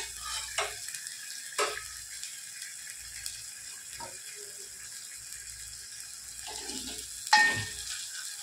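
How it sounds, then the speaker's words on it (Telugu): Ginger-garlic paste frying in a pan while being stirred for a Telugu perugu charu (yogurt curry), giving a soft steady sizzle with a few sharp scrapes and clinks of the spoon against the pan, with no talking. "కొంచెం పచ్చివాసన అంతా పోయే వరకు మంచిగా ఇట్లా వేయించుకోండి."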